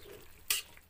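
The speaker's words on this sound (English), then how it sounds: "Just mix it through." Macaroni stirred into melted cheese in a pot for Christmas mac and cheese: a short, loud scraping stir around the middle of the moment, with faint soft stirring before and after, no talking.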